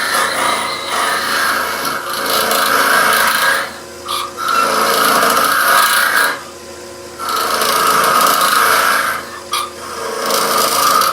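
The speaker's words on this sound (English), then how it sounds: "So side scraping, I'm going down, I'm feeling where that drill hole is," A rough, rasping scrape of a side-scraping tool against spinning wood on a lathe repeats in long strokes, cutting outwards from a drill hole, separated by short pauses, close and fairly loud.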